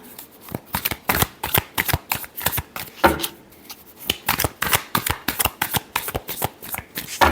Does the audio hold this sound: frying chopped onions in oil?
no